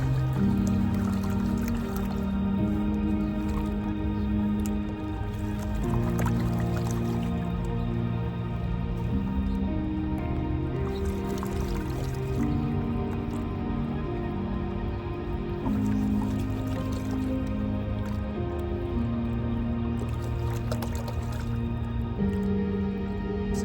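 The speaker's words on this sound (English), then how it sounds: "I'm just gonna kind of pan through this pretty quick." Gold panning in a flowing stream, water sloshing and swirling in the pan with repeated drips and splashes at a moderate, close level, with no talk heard.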